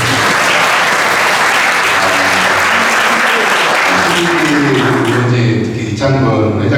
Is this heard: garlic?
no